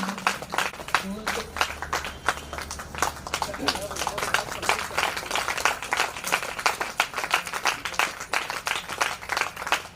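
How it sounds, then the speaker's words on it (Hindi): An audience claps during a devotional Shiva Mahapuran katha gathering, a brisk, continuous patter of many hands with a voice speaking over it. "जब व्यास भगवान का सम्मान होता है तो बड़े भाव से ताली हो जाना चाहिए।"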